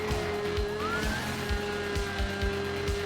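A racing car engine in the video game Drive Syndicates drones continuously with a rising whine and rhythmic low thumps, heard steadily without any voices.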